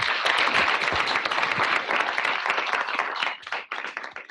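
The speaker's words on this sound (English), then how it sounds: "let's have another round of applause for Lane" An audience applauds the speaker Lane Selman at a Cornell University talk, with a sustained burst of dense clapping that thins out and tapers off near the end.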